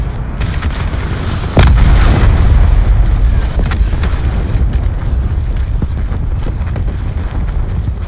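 Hellstorm missile strikes in Black Ops 4 online play, a sudden heavy boom followed by a dense, rumbling barrage of explosions that keeps pounding loudly for several seconds.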